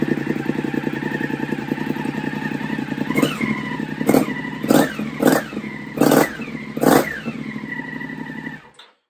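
BMW F750GS/F850GS motorcycle with a Remus link pipe exhaust idling loudly, then revved in five or six sharp blips from about three seconds on, each throttle burst followed by a drop back before the engine cuts off near the end.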